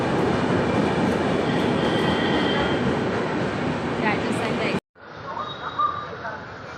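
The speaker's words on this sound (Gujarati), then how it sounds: "ટ્રેન આવી છે।" A train pulls into a railway station, a loud continuous rumble of wheels and carriages that cuts off abruptly, followed by quieter platform ambience with some squeal-like tones; voices are mixed in.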